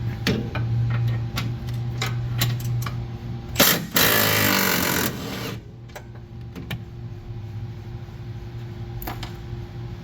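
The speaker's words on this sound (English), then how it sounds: "Now we just gotta get that top shock bolt out." A power tool works at the top shock bolt on a Honda Pioneer 1000: a steady mechanical whir with ticking, broken by one loud rattling burst of about a second and a half, close by and with no speech.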